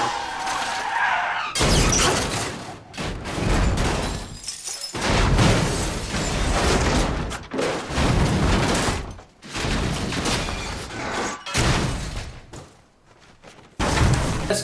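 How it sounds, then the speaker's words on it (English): A car crash from the film Casino Royale, filmed in one shot: a loud, sustained run of skidding, crunching metal and shattering glass in repeated violent bursts, with brief pauses between impacts. "Can you think of a better car crash than that?"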